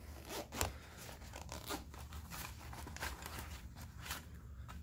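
Small zipper pulls on a pouch of a FILBE bugout bag rattle and click softly up close, with faint metallic jingles and light handling scrapes in a quiet room.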